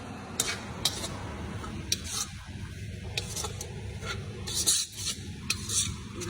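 A grated mixture is stirred as it fries in a pan, producing steady scraping and rasping with scattered light clicks of a utensil against the metal, moderately close and continuous.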